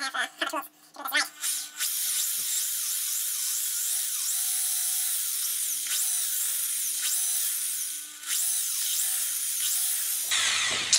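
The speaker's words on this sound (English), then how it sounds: "I will start by drilling 3 holes in this as straight as I can by freehanding it" A power drill with a 5 mm bit bores freehand holes through a thin 2 mm foam weapon part, a steady high whine running for about nine seconds that dips briefly midway, with faint background voice.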